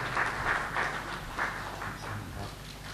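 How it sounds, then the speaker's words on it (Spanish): Congolese bishops in Kinshasa applaud as Pope Francis arrives for a meeting, a faint, distant patter of scattered claps with a few louder bursts over a low room hum. "El aplauso de los obispos congoleños que han recibido al Papa"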